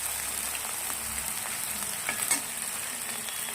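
Potato pieces fry and get stirred in a pan of oil in a home kitchen, giving a steady close sizzle with a few soft scraping knocks from the spoon partway through.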